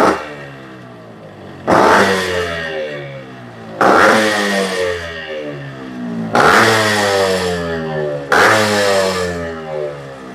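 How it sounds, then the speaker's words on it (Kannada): Yamaha RX two-stroke motorcycle with a chamber silencer, started and revved in four loud, sharp bursts that each ring out and fall back to a crackling, burbling idle, close by with no talk. "ಈಗ ಒಂದೊಂದು RX ಕೂಡ ನಾವು ನಿಮ್ಗೆ ಸೌಂಡ್ ಕೇಳಿಸ್ತೀವಿ ಯಾವ ರೀತಿ ಬರುತ್ತೆ ಅಂತ"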